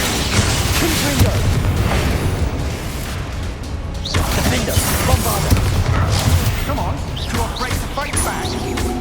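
A Bombarda explosion spell cast in Hogwarts Legacy, a dense roaring blast of booms and crashing debris filling the whole stretch, loud and continuous, with a voice speaking over it at points.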